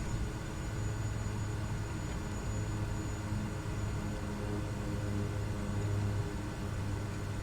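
A steady, droning turboprop engine of a Kodiak 100 in a flight simulator game hums with a low, even rumble and a faint high whine, holding constant throughout without any voices.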